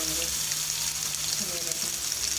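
Chicken chapli kabab fries in a pan over normal heat, giving a steady, continuous sizzle throughout, with faint background noise.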